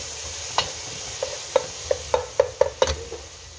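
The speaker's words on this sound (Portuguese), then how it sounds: "Aqui, ó, já fritando a cebola e o alho." Onion and garlic fry in a pan as a utensil stirs them, with about eight sharp scrapes and taps that come faster toward the end over a soft, continuous sizzle.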